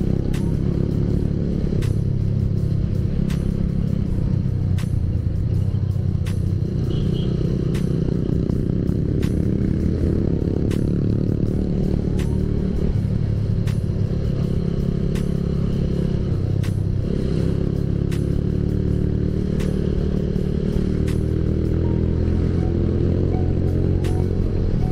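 Motorcycle engine droning steadily under hard throttle on an open road trip between Bali and Malang, wind and engine noise continuous and loud throughout, with occasional clattering ticks and no talk.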